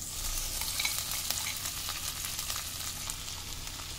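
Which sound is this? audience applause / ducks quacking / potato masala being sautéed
potato masala being sautéed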